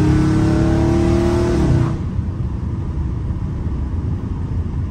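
A catless Dodge Scat Pack V8 exhaust roars loud and close from inside the moving car, with a sustained rev that drops off sharply partway through into a deep, rumbling cruise.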